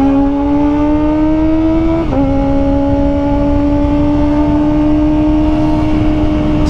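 A Kawasaki ZX25R inline-four sportbike engine roaring loud and close, a high steady whine that briefly drops as it shifts gear and then climbs again.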